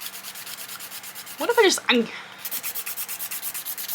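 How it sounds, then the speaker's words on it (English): Acrylic nails being filed down to remove polish, a steady rhythmic rasping of short strokes that runs throughout, briefly interrupted by someone speaking close by. "They said to drill or file until all the nail polish is off."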